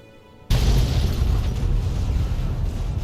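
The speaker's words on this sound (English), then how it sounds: "Quite the explosion though" Explosion in the video game Fallout 3, a sudden loud boom after a brief quiet moment, followed by a sustained rumbling roar that stays strong and slowly settles.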